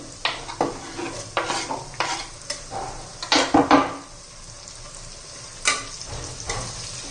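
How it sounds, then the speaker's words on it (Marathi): Onion and finely chopped tomato fry in a pot, with repeated stirring scrapes and clinks of a utensil against the metal over a steady close sizzle, a burst of louder stirring midway. "आता त्यामध्ये आपण बारीक चिरलेला एक टोमॅटो घालू"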